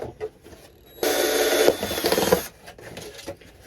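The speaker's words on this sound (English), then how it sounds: "I'm just going to drill a couple and then a couple on the sides." A power drill grinds loudly through a plastic container for about a second and a half, rough and buzzy, with quieter handling noises before and after.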